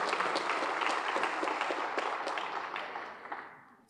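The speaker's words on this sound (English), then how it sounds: "How about another round of applause for Lieutenant Frankie Joe Salinas?" Applause at a firefighters' awards banquet honoring a lieutenant, a dense round of clapping from the crowd that gradually fades out toward the end.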